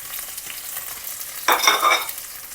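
Onions, peppercorns, garlic and curry leaves hitting hot oil for Anglo-Indian tomato pepper water, with a soft background hiss that suddenly swells into a loud, close, crackling sizzle before easing slightly.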